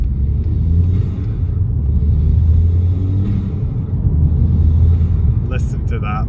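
Mk5 Golf GTI with stage 2 engine and exhaust hardware, revved on and off while driving on an open road: a steady, loud low engine rumble that swells and eases in repeated waves, with brief clicks near the end.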